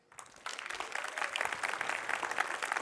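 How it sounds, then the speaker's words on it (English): Conference audience applause at a C++ talk, clapping building quickly from silence into a steady dense patter of many hands in a hall, with no voices. "I would like to kindly ask you to give warm applause to Nokia for bringing all of us right here"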